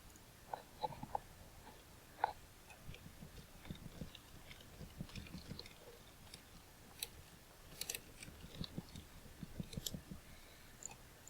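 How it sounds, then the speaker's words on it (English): Rapid irregular clicking of a loud computer keyboard being typed on close by, with scattered sharp key taps and bursts of keystrokes, no talking. "Apparently my keyboard is loud as hell now."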